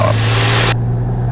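Cessna 182 engine at full power for takeoff, heard from inside the cabin as a loud, steady drone with strong low hum and broadband roar that continues unbroken.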